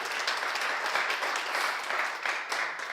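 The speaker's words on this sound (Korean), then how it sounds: "박수 부탁드리겠습니다" Audience at a lecture academy session applauding together, a dense continuous patter of many hands at moderate loudness, steady throughout without voices.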